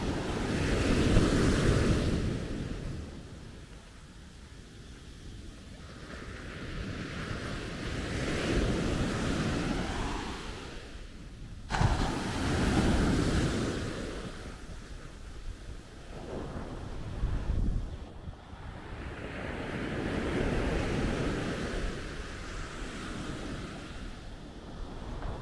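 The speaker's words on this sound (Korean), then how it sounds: "해변은 깨끗한데 건기임에도 파도가 세가지고 성인들도 수영을 못하면 추천하기 어려운 해변입니다" Strong ocean surf rolls in at Natai Beach in Khao Lak, Thailand, in the dry season, with broad swells rising and breaking in slow repeated surges under steady wind noise and no voices.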